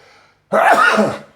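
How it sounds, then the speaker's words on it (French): A single loud, close sneeze bursts out after a brief quiet moment, sharp at the start and trailing off quickly. "J'ai éternué comme tout le monde"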